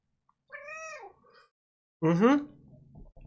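A cat gives two clear meows, a short rising one and then a louder, longer one after a pause, close and indoors.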